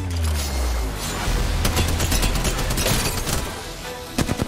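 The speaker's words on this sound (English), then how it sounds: "No, we have gunfire." Dense bursts of game gunfire crackle continuously, with booms and sharp cracks layered over a rumbling low end and a louder cluster of shots near the end.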